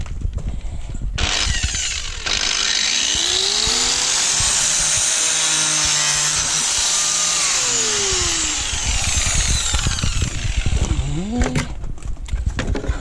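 A power tool cutting a piece of plastic car dashboard from a Peugeot 106 street-race build, a loud sustained high whine for about ten seconds with pitch sweeps, preceded and followed by brief rattles and handling noises.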